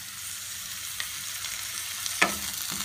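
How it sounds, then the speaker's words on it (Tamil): Curry leaves hit hot oil in a pan for a cashew fish curry, sizzling and crackling continuously at moderate level, with a couple of sharper pops and a stir near the end. "கருவேப்பிலை போட்டுக்கலாம்."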